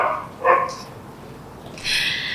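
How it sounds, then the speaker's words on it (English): A dog outdoors gives a few short barks and yips in quick succession, fairly close and clear against a quiet background. "That's not my dog."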